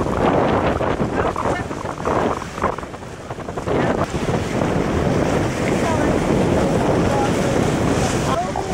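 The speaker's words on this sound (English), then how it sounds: "Windy." Strong wind gusts buffet the microphone on a beach at Port Aransas, a loud continuous roar that mixes with surf and swells and dips throughout.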